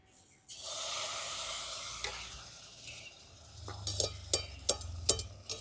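Carrot malpua frying in hot oil, a soft continuous sizzle that fades and then breaks into sharp crackles and pops toward the end, heard close up.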